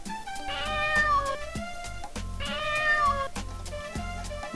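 A cat meows twice in clear, drawn-out calls separated by a short pause, close and fairly soft, with a faint tonal backing underneath.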